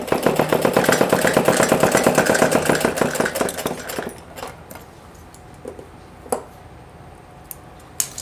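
A sewing machine stitching fabric while taking in a palazzo: fast, steady mechanical whirring for about four seconds, then it stops, leaving faint clicks and room noise.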